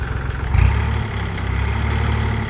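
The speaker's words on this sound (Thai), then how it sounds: "มาชมการทำงานของรถไถคันนี้กันครับ" A three-cylinder Kubota L3008 tractor runs steadily close by, a loud low chugging drone with a slight surge early on and no voices.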